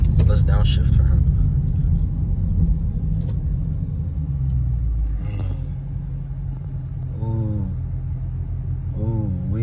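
A car's engine rumbles loudly and steadily through the whole stretch, its pitch shifting as it drops a gear during a street race against a Hellcat and a twin-turbo CTS-V, with people talking over it.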